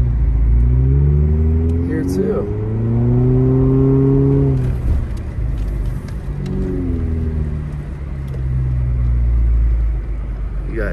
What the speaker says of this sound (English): You hear the car struggling.